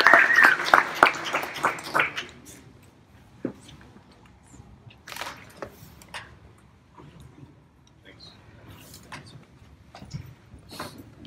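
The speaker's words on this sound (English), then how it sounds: "please give your round of applause for Mike Doane" Short burst of audience applause for a guest speaker at a World IA Day event in Seattle, loud for the first two seconds then dying away into scattered room noise and faint movement.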